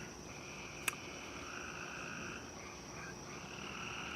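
Spring peeper tree frogs and crickets call steadily at night outdoors, a dense continuous high chorus of peeps and trills at moderate distance, with one brief sharp click early on and no talking.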